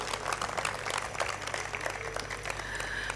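A crowd applauds at a prize distribution ceremony, producing steady, dense clapping with no pauses that stays moderately distant and fairly soft over a low background hum.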